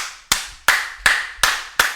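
One person clapping five times at an even, deliberate pace, each clap sharp and close with a short decay between, no talk over it.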